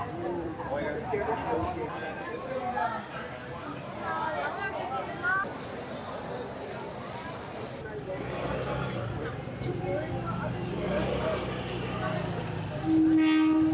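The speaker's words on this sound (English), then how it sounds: "the train passed by" A train in Taiwan rumbles steadily past close by with voices in the background, and a horn blares briefly at the end.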